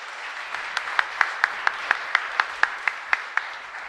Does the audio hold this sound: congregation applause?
yes